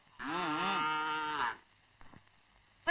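A cow gives one loud, drawn-out moo close by, rising and falling over about a second and a half, followed by faint rustling and quiet.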